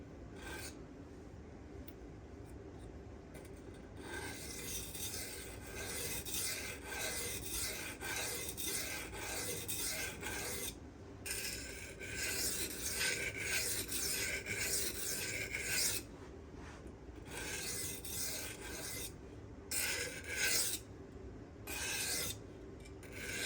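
A Damasteel knife blade is drawn in steady, repeated strokes across a 1000 grit sharpening stone, producing a continuous close rasping scrape with brief pauses between passes.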